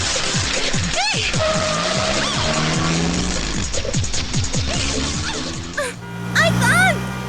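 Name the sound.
car chase with tires skidding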